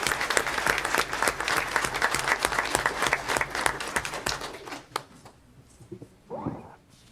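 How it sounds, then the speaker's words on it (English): An audience at a school district board meeting claps for a group of students in a burst of dense, steady applause that lasts about five seconds, then quickly tapers to a few scattered claps and rustling. "So how about a round of applause for these guys?"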